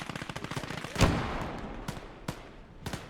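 Rapid bursts of gunfire from the Gates of Hell Ostfront war video game, a dense rattle with one louder crack and a few later sharp shots, heard alone without talk.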